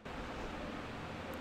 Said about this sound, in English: That's the sound of my ceiling fan.